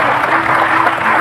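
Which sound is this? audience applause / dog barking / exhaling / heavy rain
audience applause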